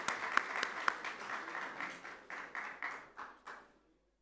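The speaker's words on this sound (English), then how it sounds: "A big round of applause for Tawhid Bhai." Audience applause at a keynote event in Dubai, a fairly faint, even patter of many hands that tapers into a few separate slowing claps before ending in quiet.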